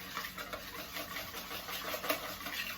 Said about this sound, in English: So give that a really good whisk.